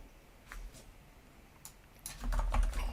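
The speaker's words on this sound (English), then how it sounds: "Just start typing." Typing on a computer keyboard, scattered light keystrokes at first, then a denser, louder burst of rapid clicking near the end, with no voices.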